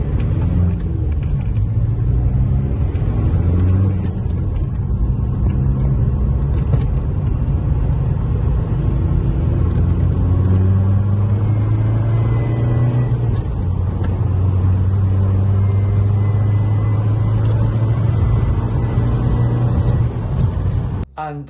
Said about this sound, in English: the top of the rev range, you get a loud squealing noise, which is boost escaping from one of the couplers or a boost pipe or something